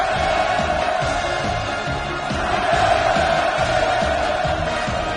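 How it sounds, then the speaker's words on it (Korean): A large crowd at a beach resort opening ceremony in Wonsan lets out a sustained roar of hurrah cheers, loud and steady with no individual voices standing out. "폭풍 같은 만세 환호성이 하늘 땅을 진감했습니다"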